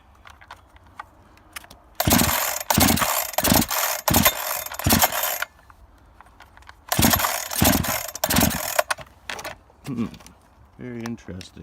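A rebuilt Husqvarna 372 XP chainsaw with a modified XTorq engine is pulled repeatedly without starting: two runs of sharp, rhythmic starter-cord rasps, several quick pulls each, separated by quiet pauses.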